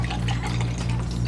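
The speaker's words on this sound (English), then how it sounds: "So we're gonna go in with our almond milk" Almond milk poured over ice for a homemade caramel frappe, a steady close liquid rush running continuously without a break and heard alone.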